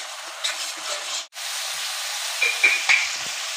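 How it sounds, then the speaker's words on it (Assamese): Ground spices sizzling in hot oil in a pan, among them dried chili powder, turmeric, Kashmiri chili powder and salt, a steady close hiss with light scrapes of a stirring spoon and a brief dropout midway. "এতিয়া ভালকৈ ভাজি ল'ম"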